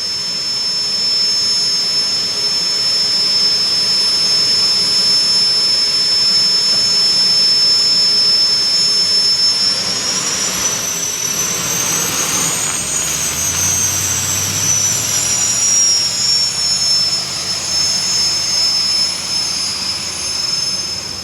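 A modified pulling tractor engine roars continuously at a county fair tractor pull, a loud sustained drone with a high whine that swells and shifts in pitch midway as the machine strains down the track.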